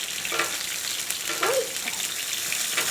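Steady, close sizzling of mushrooms pan frying, with faint crackles and pops throughout.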